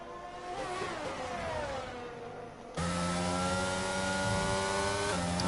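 Race cars in a sim racing game at Bahrain, including an Aston Martin and a Ferrari, rev with loud, steady engine whine, pitches climbing and shifting as a second car joins close by; no talk.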